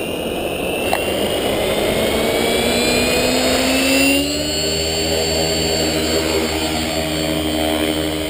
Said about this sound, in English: you can see the helicopter is just holding in one place, flying by itself